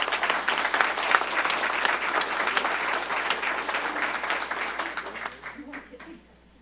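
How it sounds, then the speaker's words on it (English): Audience applause at a board of trustees meeting, sustained crowd clapping in a large room that slowly thins out and fades toward the end. "So let's give them a round of applause."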